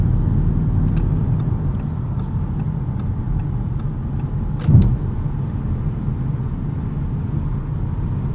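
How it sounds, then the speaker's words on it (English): Steady low road rumble and engine hum from inside a 2016 Audi S7 rolling over a bumpy road section on air suspension, with one louder thump from a bump partway through. "Here's a good example of how well the air suspension soaks up bumps."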